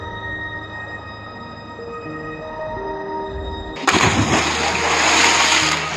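Someone jumping into water, heard as an engine-like hum that gives way to a sudden loud splash and a few seconds of churning water, close by.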